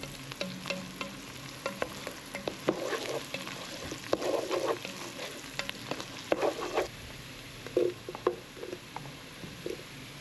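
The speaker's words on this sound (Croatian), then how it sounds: "Na masnoći koji se pržilo meso ubacimo sitno sjeckano povrće" Finely chopped vegetables sauté in fat left from frying venison, a soft continuous sizzle broken by irregular scraping stirs and wet pattering bursts, close and moderately quiet with no voices.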